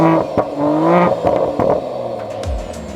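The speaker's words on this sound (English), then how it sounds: "Thumb the engine start button, and it's not a subtle entrance." A 2024 Mercedes-AMG GLE 53 4Matic+ Coupe starting up through its active exhaust, a loud, close burst of rising engine roar with revs flaring and settling, ending in a deep low thump, no voices.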